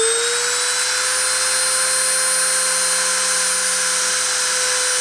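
A machine spindle spins at 30,000 RPM during a deposition run, producing a loud, steady high-pitched whine with sustained tonal harmonics and a constant drone underneath, close up and with no talking.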